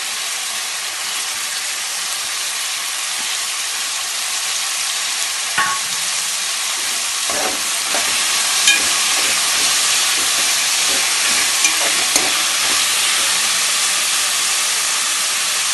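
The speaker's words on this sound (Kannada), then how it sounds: "ಸ್ವಲ್ಪ ಹಸಿ ವಾಸನೆ ಹೋಗೋವರೆಗೂ ಫ್ರೈ ಮಾಡ್ಕೊಳ್ಳೋಣ." Chopped mint, coriander and fenugreek leaves fry in a pan, giving a steady, close sizzle and hiss with occasional stirring clinks and scrapes.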